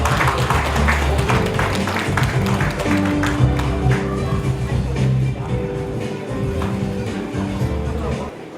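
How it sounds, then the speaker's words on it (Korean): Audience at a national broadcast-and-correspondence high school alumni gathering claps steadily, a dense run of applause with murmuring voices and a speaker talking over it. "뜨거운 박수 보내주시기 바랍니다"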